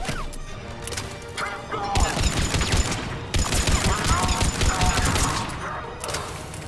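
Rapid bursts of automatic gunfire and heavy impacts in Mass Effect 3 Legendary Edition during a firefight on Sur'Kesh, loud and close in clustered volleys with short gaps between them.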